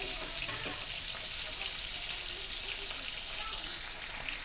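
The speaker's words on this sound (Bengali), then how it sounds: "মাছ ভাজি হচ্ছে ভাই" Fish frying in a pan with green chili and salt, a steady close hiss and crackle of hot oil sizzling continuously throughout.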